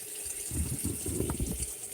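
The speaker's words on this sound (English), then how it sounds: "water's running right now" Tap water runs steadily into a kitchen sink during dishwashing, a soft continuous hiss with light splashing and clatter, fairly quiet and close with no talking.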